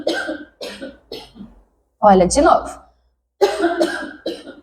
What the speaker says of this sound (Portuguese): eu vou pedir para você forçar a tosse